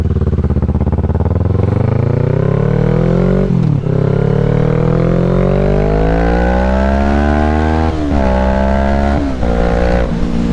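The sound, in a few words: motorcycle riding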